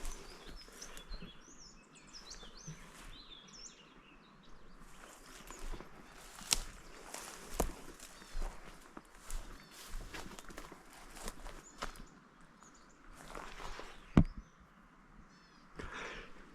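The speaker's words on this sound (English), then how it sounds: "I can hear some sort of finches actually." Faint, high chirping calls of small finches, red-browed and double-barred, scattered through quiet woodland west of the Divide, mixed with crunchy footsteps and occasional soft knocks.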